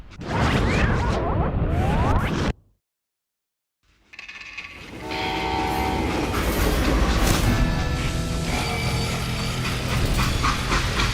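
Train in the Western shooter game Call of Juarez: Gunslinger, a freight train with a loud rumbling roll and a horn-like tonal sound, cut off by a brief silence before the steady train noise returns.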